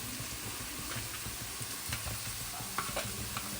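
Grated medium carrot is stirred into a hot pan while making paneer upma, a constant close sizzle of frying broken by scraping spoon strokes and soft clicks, with no talking.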